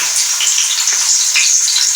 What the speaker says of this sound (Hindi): लहसुन डाल देते हैं